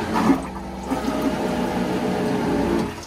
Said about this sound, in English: This one happens to be electric, so when you're ready to flush, you just simply press this button here,